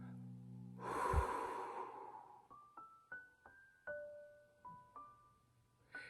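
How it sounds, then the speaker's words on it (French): One slow, deep breath during a relaxation exercise, a soft drawn-out airy inhale that fades, followed by quiet, sparse chime-like tones. "Alors, on inspire, ça monte"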